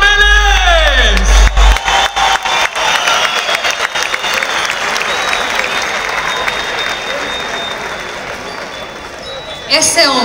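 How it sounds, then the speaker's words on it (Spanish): Loud, dense applause from a large audience fills the space, with cheers and whoops on top, after a shouted announcement at the start; steady clapping continues throughout and swells again near the end. "también necesito que todos lo reciban con un fuerte aplauso"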